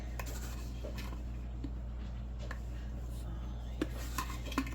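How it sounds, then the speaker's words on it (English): A spoon stirs sugar syrup in a pot for canning diced peaches, making a soft steady scrape with a few light metallic clinks near the end, close and quiet, with no talking. "So I'm just going to stir this up"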